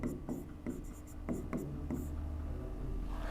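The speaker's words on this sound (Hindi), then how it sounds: "मैं लिख देता हूं" Chalk or marker strokes scratch across a classroom board during a lesson, a run of short quick taps and scrapes in an irregular rhythm, close and fairly quiet with a low room hum beneath.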